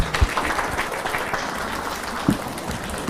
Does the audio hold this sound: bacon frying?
no